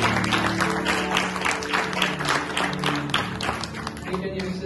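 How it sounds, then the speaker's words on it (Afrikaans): Church congregation clapping hands during a worship service, a continuous busy patter of many hands over a low sustained musical hum, steady and fairly loud throughout. "gee vir hom 'n lekker hande klap"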